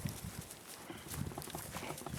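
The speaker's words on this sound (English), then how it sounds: "Now they're going to follow us, the goats." Goats following along a trail, their hooves clip-clopping in an irregular patter of light steps close by, mixed with faint rustling.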